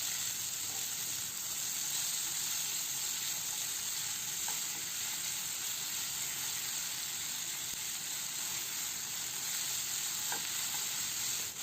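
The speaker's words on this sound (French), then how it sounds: "Je vais faire revenir les oignons avec poivron vert." Onions and green pepper sautéing in olive oil in a pan, a steady soft sizzle and hiss throughout with faint occasional stirring clicks, fairly quiet and unbroken, no voices.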